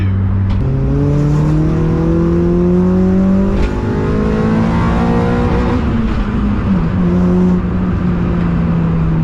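A K24-engined CL9 Acura TSX race car accelerates hard at Sandown Raceway, its loud, close engine note climbing steadily through the revs with a brief dip at a gear change partway through.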